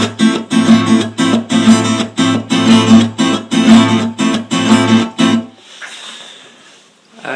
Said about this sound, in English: you want a strumming pattern which is going to sound something like this.